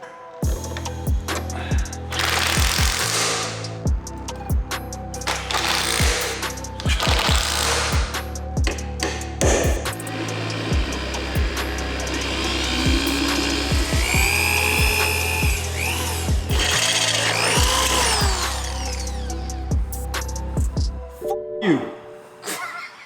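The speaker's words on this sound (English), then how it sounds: "I'm gonna know we drilled an additional hole" A drill bores a hole into the body of a BMW E30 during an M3 engine swap, loud close bursts of grinding whine in several runs separated by pauses, with clanks and a voice talking in between.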